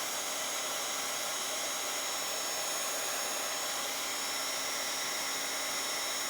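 A heat tool blows steadily against the edge of a paper journal pocket, a loud, constant whooshing fan roar that holds unchanged for several seconds with no talking.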